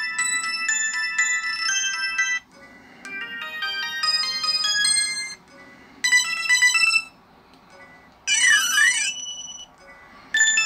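Several ringtone melodies from a 2006 Samsung D900 business phone play in turn, crisp synthetic chiming tunes with gaps between them and one warbling sweep near the end, loud and close with no voices.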